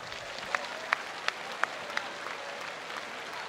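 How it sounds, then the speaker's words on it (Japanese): A stadium crowd at Jingu Stadium applauds during a post-game hero interview after a Tokyo Yakult Swallows game against Hiroshima, a broad, sustained wash of clapping with a few sharp nearby claps standing out. "この大きな拍手いかがですか。"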